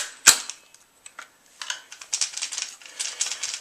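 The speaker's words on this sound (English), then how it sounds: "So you're just hearing the front sling mount." An airsoft RAP4 rifle fitted with a black 20-round magazine rattles at its front sling mount, a sharp snap followed by a run of light, quick metallic clicks and rattles.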